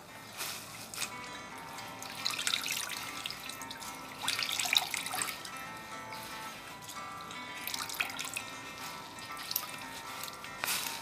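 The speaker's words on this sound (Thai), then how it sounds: "แล้วก็ทำการบิดเอาน้ำออกนะคะไม่แนะนำให้ปั่นแห้งนะคะ" Water splashing and trickling as a hand-washed garment with embellishments is wrung out by hand, a close run of uneven dripping and sloshing bursts.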